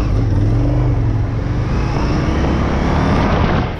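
An Indian FTR 1200 motorcycle ridden on a dirt flat track, engine roaring loud and close with steady revving throughout.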